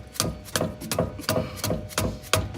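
A dead blow hammer taps a Toyota front axle half shaft into place, seven evenly spaced, fairly soft thuds arriving roughly every third of a second, close up with no talking.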